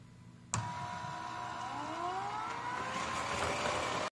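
An EZVIZ RE5+ robot vacuum starts cleaning a room: a sudden onset, then a steady motor whir with a rising whine that sweeps upward and holds. It runs alone and close until it cuts off abruptly.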